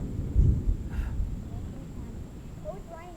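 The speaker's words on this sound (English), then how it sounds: "I know. Thundering again, too." Thunder rumbles low during a rainstorm at a creek, a deep roll swelling early and fading into steady rain and wind noise, with a few high bird-like calls near the end.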